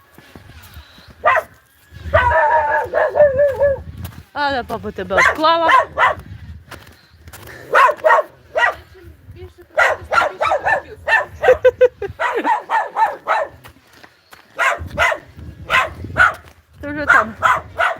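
A dog barks and yips repeatedly in short bursts, close by, while someone talks over and between the barks.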